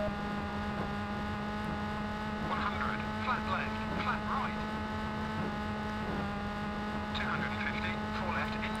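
Rally car engine held at full throttle during a snowy Sweden stage of V-Rally 3 on Xbox, a steady droning hum with brief gravelly bursts, with a person talking over it.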